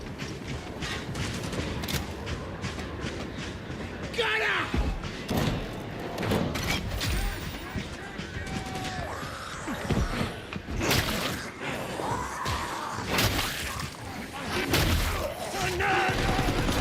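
Automatic and burst gunfire in the video game Darktide, uneven volleys of shots and impacts running throughout, fairly loud against a busy combat background.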